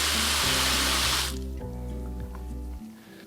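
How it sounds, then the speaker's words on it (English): Water gushes hard from a campground tap at a Michigan state park, a loud steady rush for about the first second and a half before it cuts off, leaving a voice talking. "the water pressure is phenomenal as this comes out"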